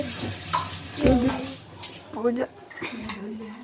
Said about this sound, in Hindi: ये बर्तन साफ़ कर लेती हूँ मंदिर के